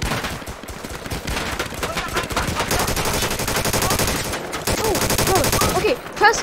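Rapid automatic gunfire in a war roleplay video game rattles in dense, continuous bursts with brief pauses, loud and close, while players' voices speak beneath the shooting.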